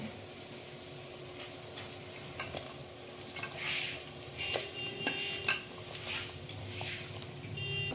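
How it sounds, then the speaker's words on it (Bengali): Prawns frying in a hot pan for a coconut milk curry, with a steady sizzle under intermittent stirring and scraping clatter, fairly close and moderate in level. "এরপরে আমি মাছগুলো দিয়ে দিচ্ছি"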